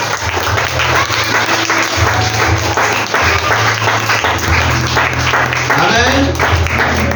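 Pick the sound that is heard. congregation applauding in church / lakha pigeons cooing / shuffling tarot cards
congregation applauding in church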